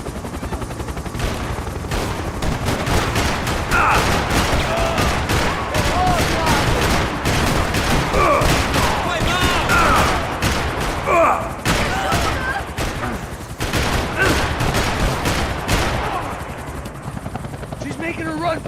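Gunfire in the video game Max Payne 3 during a vehicle chase: dense rapid bursts and shots over a steady helicopter roar, with voices shouting throughout.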